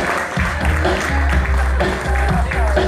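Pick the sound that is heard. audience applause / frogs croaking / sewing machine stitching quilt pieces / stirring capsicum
audience applause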